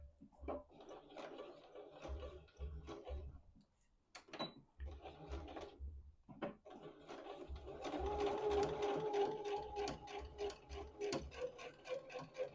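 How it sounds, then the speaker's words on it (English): A sewing machine runs in short bursts, its rapid mechanical stitching rhythm starting and stopping, then running longer and steadier near the end. "let's go to the sewing machine and see how that works"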